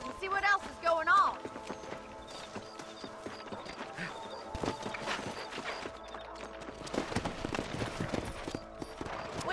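Horses gallop in the Western video game Red Dead Redemption, rhythmic clip-clop hoofbeats and riding clatter running under game voices and music, busy and moderately loud.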